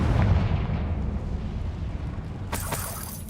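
A loud, deep Confringo fire-spell blast in the video game Hogwarts Legacy booms up close and rumbles away over a few seconds, followed by a sharp crackling burst near the end.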